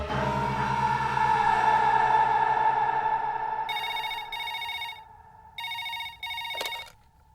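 A film telephone rings in repeated double bursts, loud and close, after a sustained musical tone fades beneath it.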